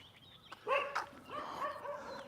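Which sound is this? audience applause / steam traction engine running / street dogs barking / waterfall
street dogs barking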